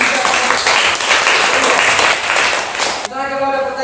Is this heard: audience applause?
yes